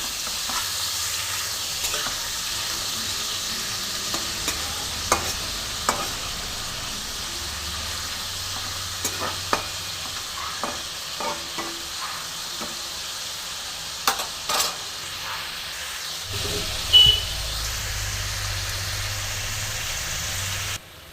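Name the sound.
shrimp with salt and turmeric frying in a pan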